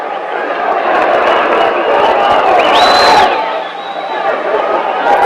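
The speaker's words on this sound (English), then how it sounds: "the crowd have now got something to shout about" A boxing arena crowd at a Sugar Ray Robinson versus Carl Bobo Olson title fight roars and cheers loudly and continuously, with a whistle rising above the din.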